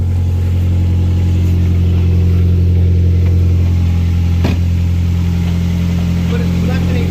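Nissan QR25DE engine running for its first start after a motor swap, a loud, steady idle hum with a strong low drone, close to the listener, with faint voices underneath.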